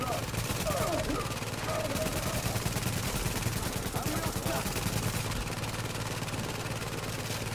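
Automated turrets trade rapid, continuous gunfire in the video game Tom Clancy's The Division, a dense rattle of shots that runs without pause under some faint talk.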